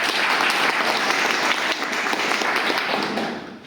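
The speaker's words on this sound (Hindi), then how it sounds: "एक जोरदार ताली सीताराम" Hearty applause for Sitaram from a gathered audience, a thick continuous wash of clapping that holds steady and then tapers off at the end.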